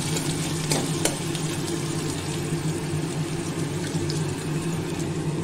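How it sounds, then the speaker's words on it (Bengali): Onions sizzle steadily in hot oil with dried chili and garlic, a continuous close frying hiss with a couple of brief clinks of a utensil against the pan. "পেঁয়াজ দিয়ে দিয়েছি, পেঁয়াজটা ভালো করে ভাজা ভাজা করে নেবো।"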